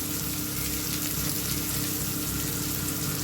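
Stuffed capsicum frying in a pan, a steady close sizzle of hot oil hissing continuously without pause.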